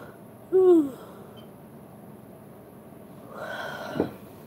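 A person yawning with a drawn-out, falling breathy tone, followed a few seconds later by a second, fainter yawning exhale over a quiet room.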